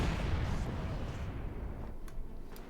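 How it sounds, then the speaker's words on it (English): In the Company of Heroes 2 video game, a heavy mortar fires and its shell explodes in a dense rumbling roar that slowly fades, with faint sharp ticks trailing at the end. "Good shot in the heavy mortar."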